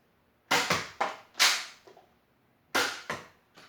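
Gunshots in an old-school shooting video game: a quick series of sharp, dry cracks, three in a burst, a pause, then three more, each with a short decay and nothing else around them.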